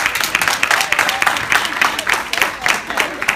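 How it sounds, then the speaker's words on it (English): Audience clapping at a talk, steady applause throughout, with crowd noise and some voices mixed in. "Clap it up if this is light work."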